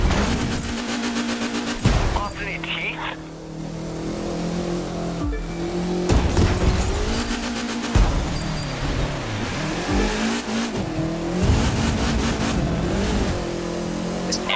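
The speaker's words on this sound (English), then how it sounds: "Engine sound though rocks." Car engine in the racing video game The Crew 2, loud and continuous throughout, revving and shifting pitch with bursts of acceleration and occasional impact or tire noise, no talk.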